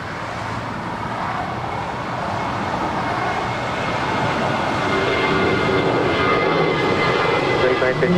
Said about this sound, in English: Our next departure is Spirit Airlines Flight 953 heading to Detroit,